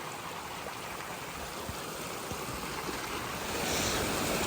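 Heavy storm runoff water rushing through a freshly excavated pond bottom, a steady broadband roar of flowing water that sits close and continuous, swelling slightly louder toward the end with no voices.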